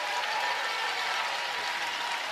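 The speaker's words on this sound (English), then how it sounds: "Canadian team being applauded off the ice" Steady crowd applause at a curling venue as the Canadian team leaves the ice, a dense continuous clapping filling the arena without pause.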